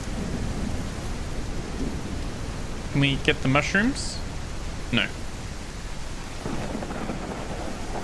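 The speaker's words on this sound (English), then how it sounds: "the storm audio is on point" Steady heavy downpour with a thunderstorm rumble in the survival game Dead Matter, a constant broadband hiss of rain throughout, with brief voices talking in the middle.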